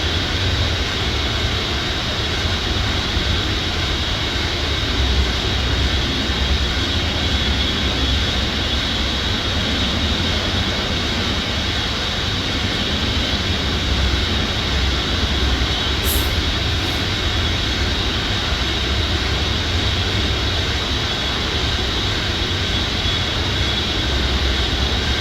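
Boeing 707 jet engines at cruise in a flight simulator game, a loud, constant broadband roar with a steady low rumble and no break for the whole stretch, with no voices.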